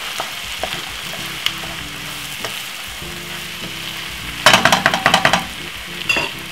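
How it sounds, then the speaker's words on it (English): Corned beef stirred in a hot frying pan, with a steady sizzle throughout and a burst of louder scraping and crackling strokes near the end, close and alone. "And then simple, give it a stir."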